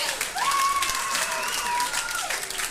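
A live comedy audience applauds and cheers after a joke, sustained clapping with hoots and whistles rising and fading over a few seconds.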